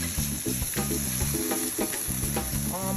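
Garlic frying in a pan, a steady close sizzle with brief bubbling crackles throughout, no voice.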